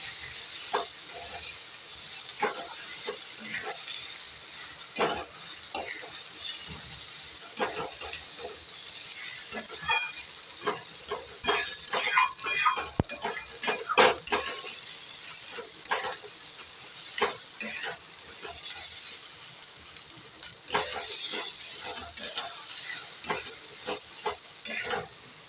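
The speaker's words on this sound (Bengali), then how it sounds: "এবার ভালো করে এটাকে আমি মিক্স করে নেব।" Potol and shrimp with garam masala and chopped coriander being mixed in a hot pan, continuous sizzling hiss with frequent scraping, clattering strokes of a spoon, close and without speech.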